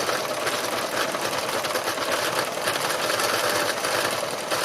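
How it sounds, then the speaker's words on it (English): Sewing machine stitching free machine embroidery onto a textured, recycled blue fabric surface, a steady close whirring motor drone running continuously without pause. "you can see how joyful really free machine embroidery is"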